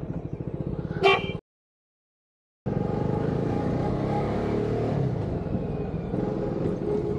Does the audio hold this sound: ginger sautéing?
no